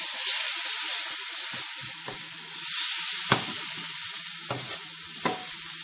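Sliced pickled limes fry with chili powder in a pan, giving a steady close sizzle with a few sharp stirring knocks and scrapes spaced through it.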